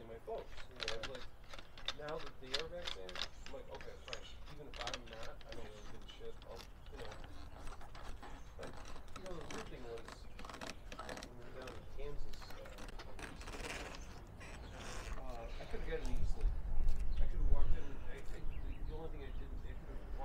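A bike repair stand clamp is tightened around a fat bike, giving a continuous close ratcheting and grinding of the mechanism with a few louder clunks, heard under someone talking.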